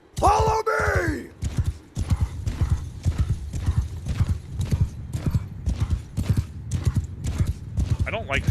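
Steady clip-clop of a horse's hooves in a medieval battle video game, a brisk repeating rhythm of close, loud hoofbeats, opening with a horse's whinny and with voices and game sounds over it.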